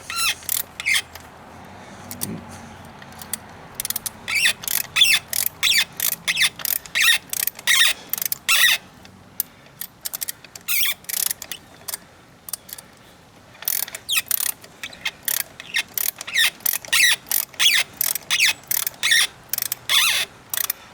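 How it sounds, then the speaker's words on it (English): A tap cuts threads in the brass fuel inlet of a Harley carburetor, making a quick run of sharp metallic clicks and squeaks in repeated bursts. Short pauses break the runs where the tap is backed out, and it is close and clear with no talk. "Back it out a little, clear the threads of the tap, and give her some more."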